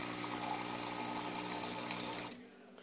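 Hot water runs from an espresso machine spigot with a steady pumping hiss and rush, close and fairly loud, cutting off abruptly near the end.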